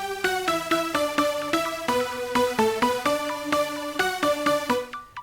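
A beat layers bright, plucked lead notes in a quick repeating pattern with piano and strings, playing in a clean, steady rhythm before fading out at the end.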